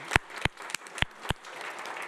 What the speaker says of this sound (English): Too much of a round of applause